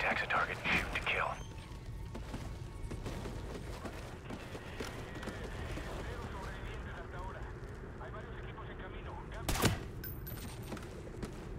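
Rapid automatic gunfire from a firefight in the video game Call of Duty: Ghosts crackles in dense bursts, with a sharp louder shot near the end and voices mixed in.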